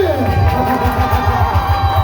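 A school audience at a primary school event in Ituri cheers and whoops loudly in a sustained crowd roar, with voices mixed into the noise.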